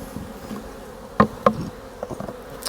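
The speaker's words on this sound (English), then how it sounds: "I think I knocked enough bees off frames as I was moving through the deep box here" Honeybees hum around an open deep hive box during a spring inspection, with a steady low drone and a couple of sharp knocks from frames being handled.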